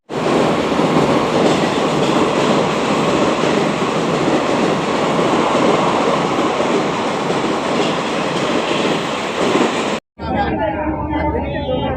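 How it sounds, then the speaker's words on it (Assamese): Onboard a passenger train heading to Chennai Central, a loud, steady rumble with rhythmic wheel clatter fills the car, cutting off briefly near the end before resuming. "এতিয়া 2 ঘণ্টা ৰাস্তা আমি ট্ৰেইনত যাব লাগিব"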